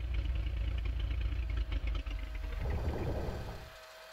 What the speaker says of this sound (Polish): I dusimy silnik.